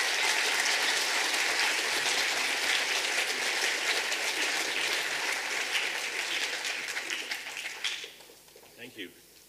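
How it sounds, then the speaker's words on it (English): An audience at a lecture on psychedelics as a treatment for OCD gives a long, loud round of applause that continues steadily before tapering off, with a few voices heard as it dies down. "huge, huge, huge round of applause?"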